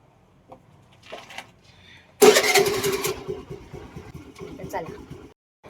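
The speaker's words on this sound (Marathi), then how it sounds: "मी आता गाडीवर बसतोय आणि आता सुरू करतलाय गाडी" A motorbike engine cranks and catches with a sudden loud roar, then settles into a sputtering idle, with a voice heard before and during.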